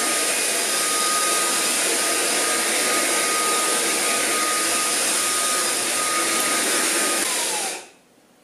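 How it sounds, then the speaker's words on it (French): A JIMMY PW11 Pro Max wet-dry vacuum on its most powerful carpet mode sucks up spilled coffee, a loud, steady broadband whine running close and alone for about eight seconds before cutting off abruptly. "Là, je vais mettre avec le mode carpet, donc le mode le plus puissant de l'appareil, et regarder un petit peu ce café, comment il va se faire aspirer."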